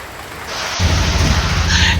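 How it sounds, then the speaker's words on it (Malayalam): Heavy monsoon rain near the Chalakudy river in Kerala begins suddenly, a dense hiss of downpour that swells and holds steady, loud and close. "നല്ല മഴയാണ് ഇവിടെ"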